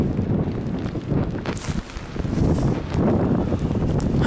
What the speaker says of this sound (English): It's so cold and so rainy and so windy.